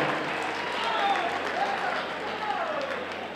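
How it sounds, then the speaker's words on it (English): Steady applause from a crowd at a fight event fills the background, fairly distant and even, with faint voices mixed in underneath. "a big round of applause for the challenger, Yamato from Japan"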